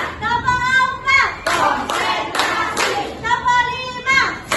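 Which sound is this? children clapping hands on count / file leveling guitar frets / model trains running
children clapping hands on count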